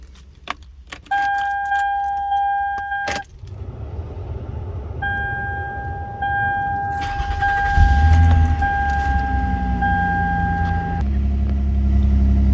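Keys jangle before a car engine cranks, starts and settles into a steady running rumble that grows fuller and louder, heard up close without talking.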